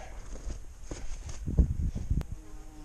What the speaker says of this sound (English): there's big ass bees everywhere